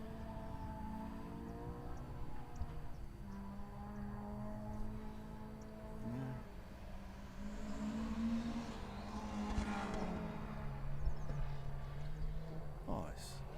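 A classic rally car approaches on a gravel special stage of the Otago Rally, its engine note rising and swelling from a distance over several seconds amid outdoor ambience and some crowd noise.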